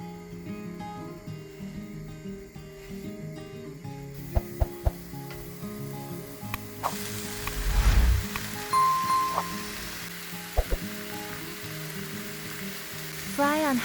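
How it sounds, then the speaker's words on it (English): Meat sears on a hot pan over high heat, a moderate sizzle that swells after a few seconds, with scattered sharp clicks and utensil knocks and faint background music. "Put the meat onto a hot pan."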